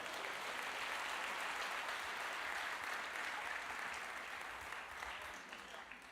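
A church congregation breaks into sustained applause, a dense, steady wash of clapping that carries on across the whole stretch and tapers slightly toward the end.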